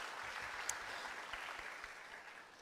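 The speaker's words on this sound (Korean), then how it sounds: "주님께 영광의 박수 올리겠습니다." Church congregation clapping together, a sustained wash of many hands that sounds somewhat distant and soft, fading slightly toward the end.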